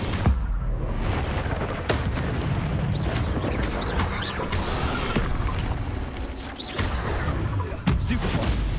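Incendio fire spell cast during a Hogwarts Legacy duel, mixed with other spell blasts: repeated booms and crashing bursts over a dense, rumbling battle din.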